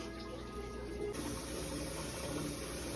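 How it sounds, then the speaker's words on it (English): Water pouring from a tap into a container to cover a turkey in brine, a steady hissing, splashing flow that grows slightly fuller partway through, close by and continuous without talk. "I'm gonna add a little more water so the turkey could be completely submerged."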